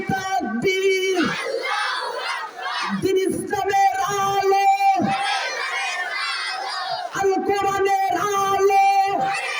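A large crowd at a Bengali waz mahfil responding to a takbir call with massed, rhythmic chanted shouts in repeated loud bursts, close and powerful, separated by brief gaps.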